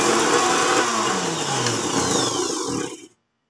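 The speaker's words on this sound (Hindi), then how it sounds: "उसके बाद हमें इसको अपने मिक्सर जार में डालना है।" A kitchen mixer grinder whirs loudly as it grinds sun-dried garlic into powder in its jar, a steady motor roar with a shifting pitch that cuts off abruptly at the end.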